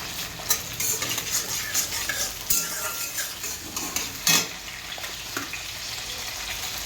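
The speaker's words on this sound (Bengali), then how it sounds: "এবার আমি এর মধ্যে দিয়ে দেবো কালো জিরে।" Nigella seeds frying in hot mustard oil with green chillies and garlic, a steady close sizzle with scattered clinks and scrapes of stirring.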